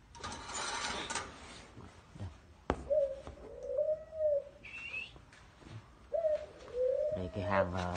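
Young doves coo in repeated low, rounded phrases, each call rising and falling, heard fairly close amid light background noise.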